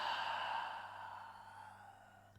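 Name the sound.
forceful exhale through the mouth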